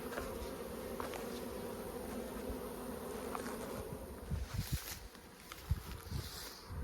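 A dense, steady buzz of many bees fills the air around a hive, with occasional louder passes and soft bumps close by.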